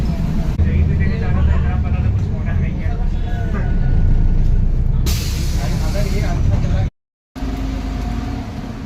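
A bus rumbles nearby amid road noise, then its air brakes let out a sharp, loud hiss partway through before the engine drone resumes, with voices faintly present.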